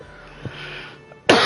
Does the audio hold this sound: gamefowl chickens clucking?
no